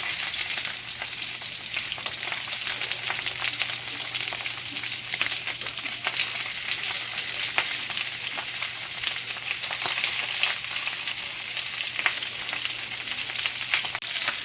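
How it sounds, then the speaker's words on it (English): Sausages sizzle and crackle steadily in a hot pan, a dense continuous frying hiss with occasional pops, no voices. "a hot pan, these things start to sizzle up pretty quick"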